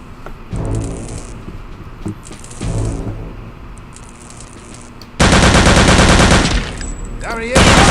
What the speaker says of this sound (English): Yay, a machine gun!